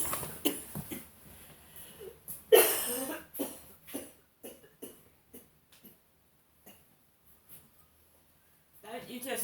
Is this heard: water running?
no